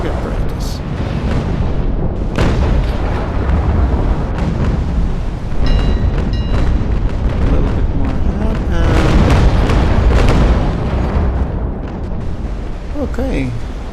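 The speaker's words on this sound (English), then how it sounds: "my guns are almost loaded, so time for some more target practice" Naval cannon fire from sailing warships in the Naval Action game: repeated heavy booms and crashing blasts over a continuous rumbling din, loud and close.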